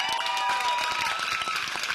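A studio audience at a comedy talk show breaks into dense, steady applause, many hands clapping at once with a few faint shouts mixed in, sustained for the whole moment.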